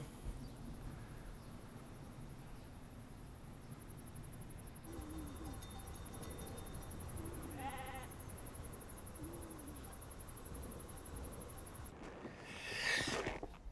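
A ewe bleats in a pastry setting among a flock, short wavering calls rising faintly over steady outdoor rumble, with one louder burst near the end.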